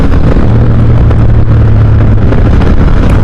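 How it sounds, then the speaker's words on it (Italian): Honda Hornet CB 750 motorcycle engine running under load during a ride, a loud continuous drone with a steady low hum, heavily mixed with wind rushing over the microphone. "Proviamo a scalare una marcia, però anche in standard la sua spinta"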